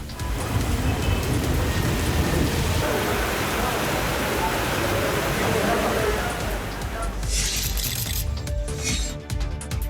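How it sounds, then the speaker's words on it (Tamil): Moderate rain falls in Kodaikanal for over two hours, heard as a dense, steady hiss of drops hitting the ground beneath a voice talking throughout. "கொடைக்கானலில் 2 மணி நேரத்திற்கு மேலாக பெய்த மழையால் குளிர்ச்சியான சூழல் நிலவியது."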